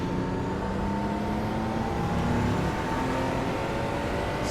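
Honda NSX engine in the rFactor racing game, a loud continuous engine drone with harmonic tones that climb and shift as the revs change, heard alone without talk.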